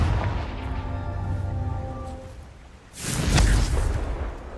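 Fire spell blast in Hogwarts Legacy, a rumbling whoosh building into a loud, broad burst that fades out over a second or two.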